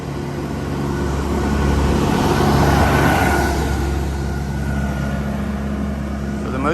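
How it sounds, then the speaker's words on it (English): A tractor drives by on a backwoods rural road in Alabama with a low, steady engine drone that swells as it passes close and then slowly fades, heard over outdoor background noise. "that's about all you see back here are tractors riding by"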